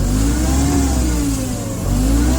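A Mitsubishi FG15 forklift engine revs up evenly and strongly close by, a loud continuous mid-pitched drone that swells and eases slightly with no break.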